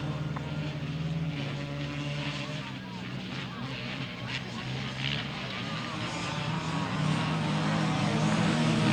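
Sidecar outfits in grasstrack racing roar past close by, a sustained blended engine drone that swells slightly toward the end, with a commentator talking over it throughout.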